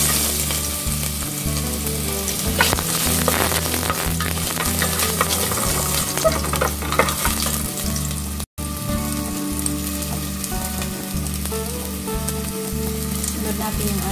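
Vegetables for law-oy, a Bisaya vegetable soup, sizzle and fry in a little hot cooking oil in a pan. The crackle is loud and continuous up close, with scattered sharp pops throughout.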